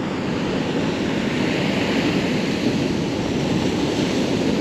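Storm surf pounds a pebble beach at Lazarevskoye, a steady dense roar of breaking waves and churning water with no clear gaps, loud and close throughout.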